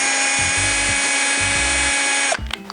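A power drill whines steadily and close as it bores a hole through a thick cake board, with the motor pitch dipping a few times under load before it cuts off abruptly near the end.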